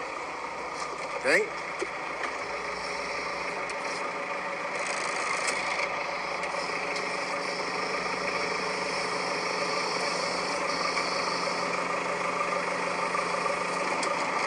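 A forklift engine idles steadily at a fairly quiet level while raising a Yamaha F-115 outboard motor, with a faint rattle early on and a person speaking briefly.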